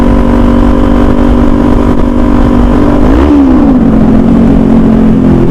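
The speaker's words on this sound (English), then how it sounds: "Get a little under the bridge rev." A 2021 Kawasaki Z400 motorcycle engine holds a loud, close, steady rev, then the pitch dips and settles lower as the throttle eases, with no talking.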